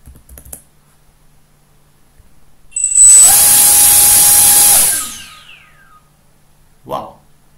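At full throttle, a single hexacopter drone motor in a Mission Planner motor test gives a loud, steady, piercing whine for about two seconds, then spins down. Faint sounds occur before and a short voice follows.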